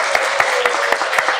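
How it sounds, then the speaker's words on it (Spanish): Brief burst of audience clapping for a guest on a Spanish-language talk show, sharp claps in a steady rhythm, fairly close and loud. "Aplauso para José Luis Morín"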